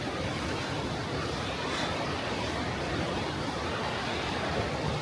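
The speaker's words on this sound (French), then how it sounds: "je crois qu'il y a un petit peu plus d'eau dans les cascades que tout à l'heure" Rushing water from waterfall cascades heard outdoors, a dense, unbroken roar at moderate level without pauses and with no speech over it.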